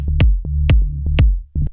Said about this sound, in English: they do get this little clicking sound